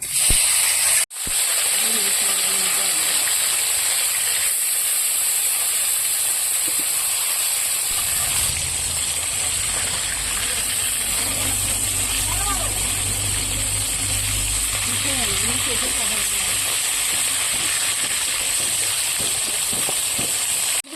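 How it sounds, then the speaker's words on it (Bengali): Fish go into hot oil in a wok for a fish curry, and a sudden, loud hissing sizzle starts partway through and holds steadily to the end. It comes after a quieter stretch with a knock near the start. "এবার আমি মাছগুলো দিয়ে দেবো তেলে"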